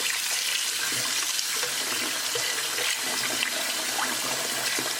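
Cold tap water runs steadily into a sink as chicken drumsticks are rinsed under it, a continuous close hiss and splash with no talking.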